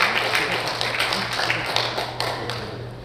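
A church congregation at a Korean Liberation Day memorial worship service claps together, a dense patter of hands that fades gradually over a few seconds, with a low hum beneath.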